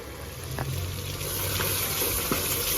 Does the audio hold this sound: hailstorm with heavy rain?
no